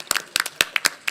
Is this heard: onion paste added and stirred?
no